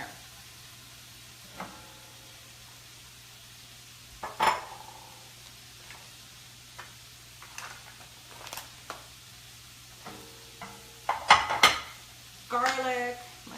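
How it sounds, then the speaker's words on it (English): Pans and utensils clatter in a home kitchen while rockfish fillets with fennel are being cooked, with scattered sharp clanks and scrapes, some louder bursts near the end, over a quiet low hum. "Lots of pans going in here."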